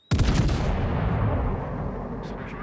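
A salvo from the battleship King George V in World of Warships, a sudden loud booming blast of several near-simultaneous guns that rolls and decays into a long rumbling tail, no voices.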